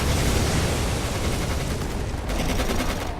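Dense, continuous gunfire in the video game Codename: Panzer Phase One roars for a few seconds, rapid shots blurring into a loud unbroken barrage with no voices.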